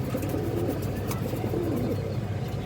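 Pigeons coo softly in a loft, with low, rolling calls repeating faintly over a quiet background and no voices.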